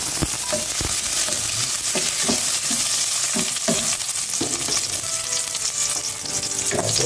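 Garlic sizzles in hot cooking oil, a loud, dense crackle and hiss with stirring clicks throughout, no talking.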